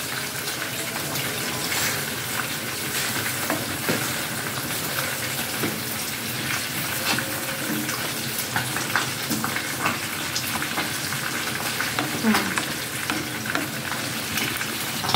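Spinach, the last green added, being stirred into a simmering pot of clear Indonesian vegetable soup with basil leaves, a dense, steady bubbling and watery churning with light scrapes of the spoon throughout.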